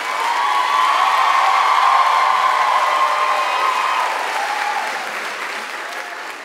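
A comedy audience at a stand-up show breaks into sustained applause and cheering, a dense wash of clapping with scattered whoops that stays loud for several seconds before gradually easing off.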